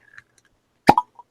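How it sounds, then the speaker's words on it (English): Cork popping from a bourbon bottle, one sharp hollow pop with a quick secondary ring after it, close and clear against near silence. "we finally heard the cork pop, which was great"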